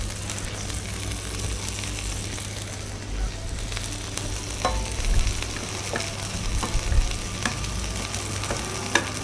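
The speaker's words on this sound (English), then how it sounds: "So I just need to get to fry my potatoes a little more. But in the meantime, I'm dropping in" Potatoes and mushrooms frying in a pan, a constant close sizzle with occasional stirring scrapes and pops throughout.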